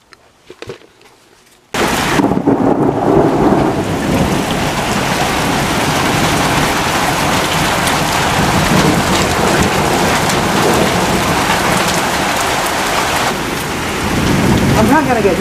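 Steady heavy rain with thunder outdoors in a city among tall buildings, a loud continuous downpour that begins abruptly after a quiet opening second and holds with rumbling low end throughout.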